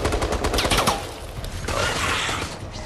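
Turret gunfire in the Resident Evil: Resistance video game, a dense rapid burst of loud shots that rattles on without pause for the whole stretch.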